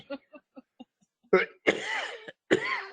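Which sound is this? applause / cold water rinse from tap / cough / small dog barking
cough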